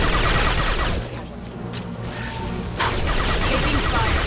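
Dense, loud gunfire from a Mass Effect 2 combat scene, a continuous rattle of shots with bursts that thin briefly before swelling again.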